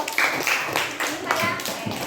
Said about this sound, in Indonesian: Beri dulu tepuk tangan untuk kelompok